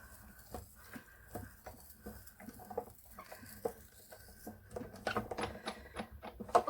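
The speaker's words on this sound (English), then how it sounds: "Then you put this through the machine" Sizzix Big Shot die-cutting machine cranked by hand while fabric and a die pass between plates, giving quiet, irregular clicking and patter that grows busier and louder toward the end.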